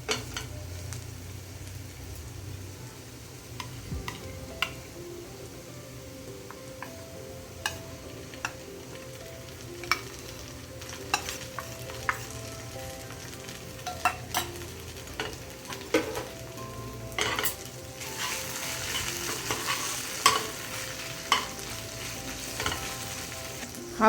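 Mustard and poppy seed paste stir-fried with pointed gourd in a pan: a low, bubbling sizzle with frequent sharp spatula scrapes and clicks against the metal, growing louder and busier toward the end, no talking.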